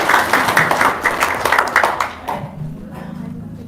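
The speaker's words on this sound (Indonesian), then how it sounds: "Tepuk tangan" An audience bursts into brisk, dense hand clapping, loud and close for about two seconds, then quickly fades to a faint background murmur.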